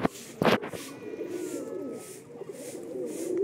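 Pigeons at a home loft coo steadily at close range, a low, continuous warbling murmur with a brief louder flutter near the start.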